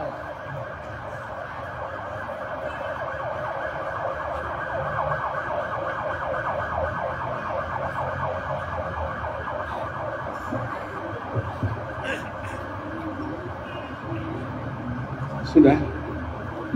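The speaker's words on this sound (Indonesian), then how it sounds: "Kita hormati ambulannya." An ambulance siren sounds steadily through a busy outdoor gathering, its wailing tone running continuously beneath crowd noise and murmured voices as it passes, with a few sharper bumps near the end.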